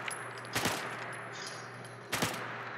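Two separate bursts of gunfire from target practice in the Fallout video game, each a short cluster of sharp shots over a steady humming background, with a quiet pause between them.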